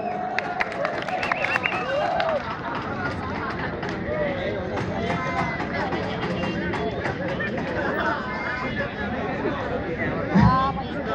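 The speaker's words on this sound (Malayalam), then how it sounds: "നല്ലൊരു കൈയടിയോടെ ഒന്ന് പ്രോത്സാഹിപ്പിക്കാം" Crowd applause and cheering fill a busy mobile phone and camera showroom inauguration at the beach, with steady clapping and chatter throughout and a brief louder burst near the end.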